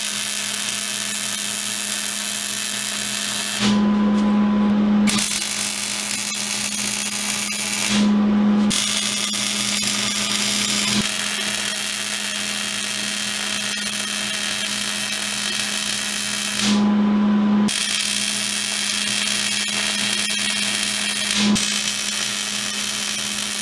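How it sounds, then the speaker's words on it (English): Welding a steel V-style cylinder head stand produces a loud, continuous crackling hiss in long runs, broken by a few short pauses between passes. "I'm going to go ahead and weld it up solid."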